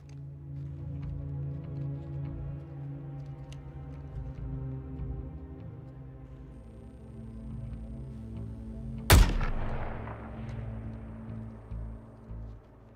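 A single sharp gunshot cracks out partway through a mission in Suicide Squad: Kill the Justice League, loud over a steady bed of game music and ambience, with a brief ringing tail.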